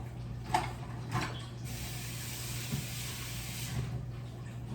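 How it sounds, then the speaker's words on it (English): Water is poured into a cooking pot of Haitian-style spinach with beef and shrimp, a soft continuous splashing hiss lasting a couple of seconds, bracketed by a few light clinks of utensils against the pot and a low steady hum. "I'm gonna add a little water to it."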